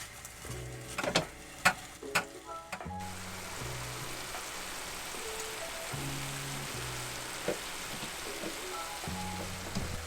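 Ground meat browning in a skillet on an RV stove gives a steady, moderate sizzle that runs nearly throughout, with a few louder clatters near the start and faint low tones scattered over the frying.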